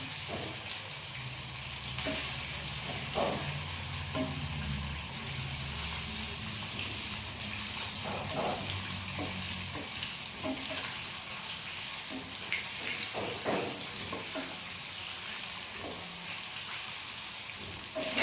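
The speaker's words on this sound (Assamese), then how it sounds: "এইখিনি মই দুইটা পিঠি ঘূৰাই ভালদৰে ভাজি লৈছোঁ।" Pieces of snakehead murrel fish fry in a pan, giving a steady, moderate sizzle throughout with scattered clinks and scrapes as they are turned.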